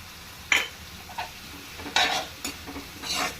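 Curry leaves, ginger and garlic frying in oil in a pan for a potato fry, with a low background sizzle broken by several sharp bursts of stirring and scraping, close and fairly loud, no talk.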